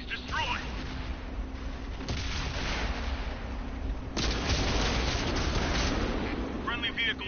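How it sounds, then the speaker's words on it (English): Booming gunfire and explosions from tank battle in the World of Tanks video game, dense continuous rumbling blasts with a couple of sharper impacts, under faint game radio voices. "Friendly vehicle destroyed."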